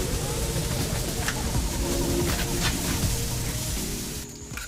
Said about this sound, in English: I'm actually recording this outside, so if you do hear some birds chirping